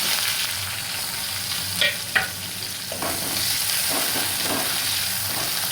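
Chopped large onion frying in hot oil with whole spices such as cardamom for soya chilli, a steady close sizzle with a few stirring scrapes and knocks, no talking.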